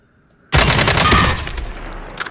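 Automatic gunfire in Call of Duty Warzone bursts in loudly after a short silence, a dense rattling volley that slowly thins out over about two seconds with a few trailing pops.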